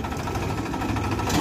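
A Mahindra tractor engine runs steadily and close by, a continuous low rumbling drone with mild vibration and no break across the short stretch.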